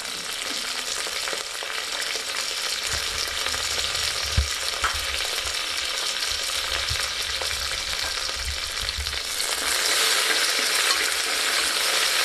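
Green chilies and curry leaves sizzle in hot oil for chicken curry bagara rice, a steady bright frying hiss with occasional soft stirring scrapes and low thumps, growing slightly louder toward the end, no voices.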